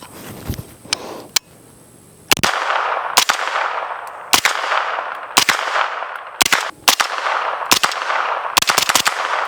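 Sharp, loud shots from a piston-driven pistol caliber carbine, fired one at a time in a steady rhythm of roughly eight to ten reports, with quieter handling noise at the start before the first shot.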